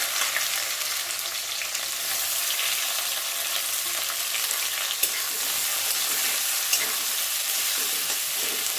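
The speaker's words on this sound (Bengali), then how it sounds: "তো আর তেল দেবো না, ওই তেলের মধ্যেই পেঁয়াজগুলো ভেজে নেব" Onions frying in oil in a pan for a thin mutton curry, a steady close sizzle with faint stirring scrapes and no talk.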